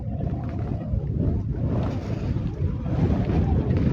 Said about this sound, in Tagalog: Lalo ganitong malakas ang hangin.